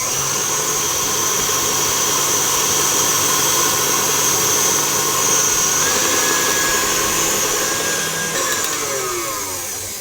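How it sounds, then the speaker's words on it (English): Orange cake batter beaten with an electric whisk, a loud steady close-up motor whine with a faint rising pitch shift near the end and no speech over it. "So I'm going to continue whisking it"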